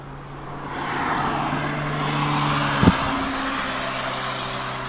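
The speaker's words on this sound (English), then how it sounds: "so at least you can enjoy the sounds of the cars on the main road" Road traffic on a main road beside East Midlands Airport, a steady broadband rush of passing cars with low engine hum, one brief louder thump near the middle, continuous throughout.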